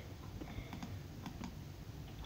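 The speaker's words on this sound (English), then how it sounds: "Sorry about my clicking noise." Clicks from an old computer mouse during Roblox SkyBlock gameplay tap out at an uneven pace, close and fairly quiet over a steady hiss of background noise.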